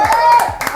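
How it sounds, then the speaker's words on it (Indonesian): A quick burst of hand clapping, loud and close, lasting under a second alongside voices. "tamu pertama kita kali ini adalah Aldi Liv, tepuk tangan."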